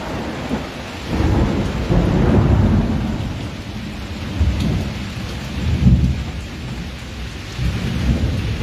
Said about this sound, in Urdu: دھماکہ سنیے گا بجلی کا.